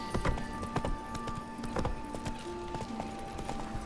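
Steady clip-clop of horse hooves trotting at a quick, even rhythm in the video game The Witcher 3: Wild Hunt, moderately close, with a faint tonal hum underneath.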